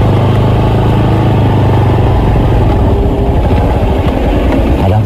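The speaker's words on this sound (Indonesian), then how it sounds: "Pemirsa ada motor, pemirsa." A motorcycle passes at night near a lone house in the middle of rice fields, its engine a loud, close, rumbling drone that holds steady and then shifts as it revs and moves past.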